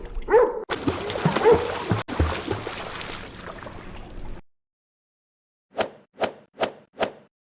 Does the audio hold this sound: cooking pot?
no